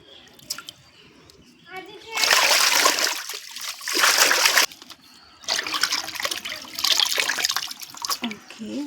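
Hibiscus flowers are washed in water for a hair remedy, giving bursts of splashing and trickling water, like a tap running into a sink, with short pauses between them.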